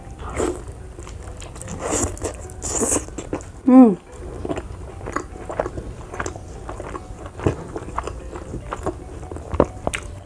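Close, crunchy bites and wet chewing while eating a whole chicken with rice and raw vegetables such as jengkol, leunca and eggplant, in scattered bursts, with a person talking between mouthfuls.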